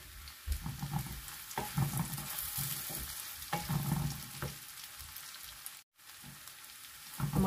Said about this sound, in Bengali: আমার পোল্লটা বা সসেজ ভাজা হয়ে গেছে